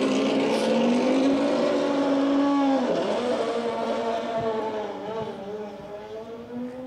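A race car engine, a Mazda RX-7 inside a motorsport museum, revs loudly and steadily, its pitch rising and then sinking as it settles toward idle, with voices faintly in the room.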